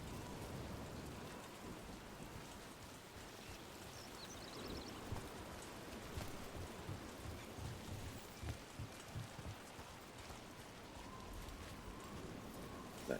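Steady rain patters in a Dragon Age: The Veilguard game scene, faint and continuous, with soft low rumbles and a few hoof-like clops under the downpour.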